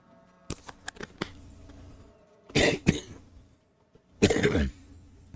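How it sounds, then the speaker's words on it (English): Coughing after a dab during a gaming stream: a couple of close, harsh coughing fits separated by pauses, with small clicks and shuffling noises in between. "I believe I officially have what's called a dab cough."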